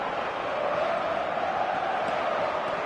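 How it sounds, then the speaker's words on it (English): A football video game's stadium crowd roars as a steady, dense wash of cheering and chanting, holding loud and even throughout with no talk over it. "Crowd appreciates good football all round there."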